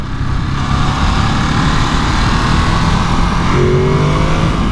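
A 2022 Ducati Monster motorcycle engine revs steadily through its airbox, a loud, continuous droning roar with a rising pitch toward the end, heard close with no talking.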